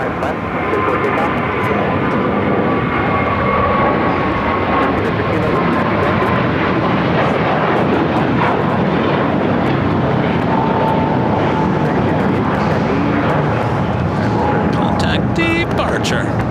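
Piper propeller airplane waiting before takeoff on a windy day at LAX, a steady drone with broad noise heard from a distance throughout, alongside radio-style talk.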